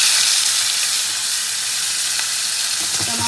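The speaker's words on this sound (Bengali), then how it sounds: "মাছগুলোকে হালকা করে ভেজে নিয়েছি, এবার তুলে নেবো।" Pieces of fish fry in a pan with a steady, bright sizzle that hisses evenly and loudly the whole way, with faint stirring clinks near the end and no talking.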